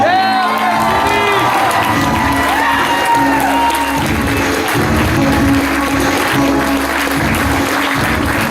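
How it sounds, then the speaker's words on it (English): An audience at a black belt demonstration at a dojo claps and cheers for a named performer, loud sustained applause with whoops and children's shouts rising over a continuous crowd roar. "a round of applause for Syed Hashimi"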